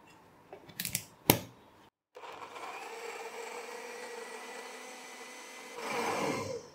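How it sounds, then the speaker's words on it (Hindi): Strawberries and orange juice whirring in a blender, a steady broadband motor roar that starts after a couple of sharp clicks and a short pause and swells louder near the end; no talking. "और इसको ब्लेंड कर लेंगे।"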